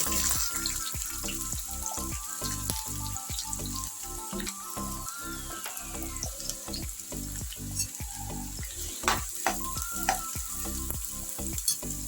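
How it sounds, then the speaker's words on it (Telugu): Onion fries in two spoons of oil in a pan, a steady close sizzle broken by frequent stirring scrapes and knocks throughout. "రెండు స్పూన్లు ఆయిల్ ఫ్రై చేద్దాం ఆనియన్"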